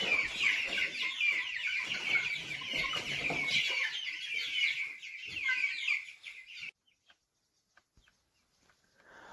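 Young broiler chickens eat their feed in a backyard flock, giving a busy, continuous stream of cheeps and clucks for about six seconds. The calls then stop abruptly, leaving only a few faint, scattered peeps.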